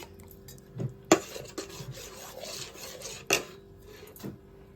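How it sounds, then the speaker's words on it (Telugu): A spoon scrapes and clanks around a metal pot as thick sambar is stirred, with several sharp knocks against the rim, close by. "ఇలా కలుపుకోవాలి."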